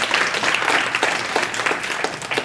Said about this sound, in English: so please another round of applause for our final panel.